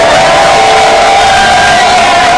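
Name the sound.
church congregation shouting and cheering for joy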